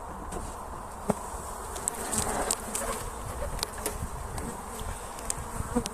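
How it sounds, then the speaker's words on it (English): A honey bee colony hums inside its hive in early spring, a steady close buzz of many wings, with a few louder individual bees passing near and a faint occasional click. "So there's a nice looking colony of bees for this time of the year."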